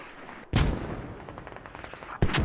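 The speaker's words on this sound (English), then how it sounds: "Those are just excellent mortars." Mortar fire in a military video game: two heavy booming blasts, the first about half a second in and the second near the end, with rumbling, crackling battle noise rolling on between them.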